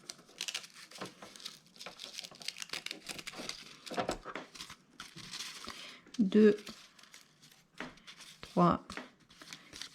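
A paper punch cuts through four stacked layers of paper, giving two short, crisp crunching snaps a couple of seconds apart, heard close up between bursts of French speech and quiet paper handling.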